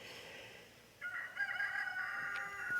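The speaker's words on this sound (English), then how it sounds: "Now there's another rooster getting upset." A rooster crows from a short distance, a sustained rising-then-held call that starts suddenly and carries over faint background ambience, with no talking.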